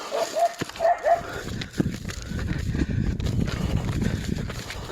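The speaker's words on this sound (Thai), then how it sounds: "ได้ยินเสียงเห่าแล้วครับ" A few short hunting dog barks early on, then a low rumbling, shuffling clatter that carries on steadily.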